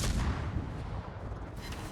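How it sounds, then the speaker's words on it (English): Naval gunfire in a warship combat video game, with a heavy booming blast and rumbling low-end shell fire hitting near the ship, loud and close, dense at first and then fading into a lingering roar. "Somebody just threw a whole bunch of shells at me."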